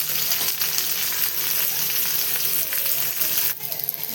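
Okra (bhindi) fries in oil, giving a steady, close sizzling hiss with a few light clinks, continuous throughout and with no talking.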